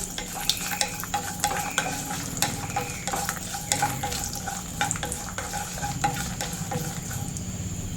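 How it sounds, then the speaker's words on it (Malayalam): Cashews and raisins fry in a pan for an idli upma dish, a steady loud sizzle broken by repeated scraping and clinking as a utensil stirs against the metal, with no voices. "ഇനി നമ്മൾ ഇടാൻ പോകുന്നത് ഇത്തിരി അണ്ടിപ്പരിപ്പും മുന്തിരിങ്ങായി വേണേ അതുകൂടി ഇട്ട് നല്ലപോലെ മൂപ്പിച്ചെടുക്കാം"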